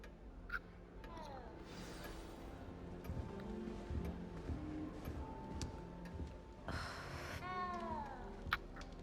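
Cat meowing inside the castle in the Hogwarts Legacy video game, several rising-and-falling calls spread across a busy game soundscape with music and ambient noise, the clearest meows near the end.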